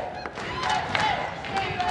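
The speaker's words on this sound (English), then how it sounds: "The crowd cheering him on," Spectators at the 2015 Mosconi Cup pool match cheering and shouting together, a dense crowd roar with whistles rising over the arena noise, with voices mixed in.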